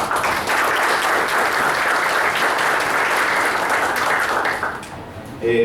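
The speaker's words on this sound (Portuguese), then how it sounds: "Uma salva de palmas, pessoal." A public hearing audience at CTI claps in sustained, loud applause that fades out just before the end of the clip.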